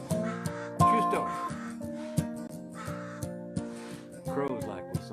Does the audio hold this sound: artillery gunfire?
no